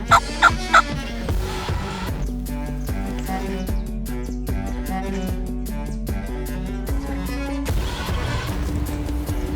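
A wild turkey gobbles near a pond during a late spring hunt in Iowa, with loud rattling gobble bursts at the start followed by chirps and ambient bird calls.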